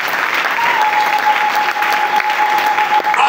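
A church congregation claps and cheers for Jesus, a dense, loud, continuous wave of applause filling the room throughout, with a sustained vocal tone carrying over it.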